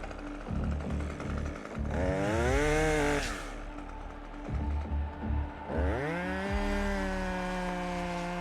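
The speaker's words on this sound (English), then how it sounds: "So now, chainsaw up, cut from that position." Chainsaw cutting a tree high up while the operator climbs during community-forest heli-logging, revving in bursts with the pitch rising and falling as the engine bogs down and winds up, loud and close.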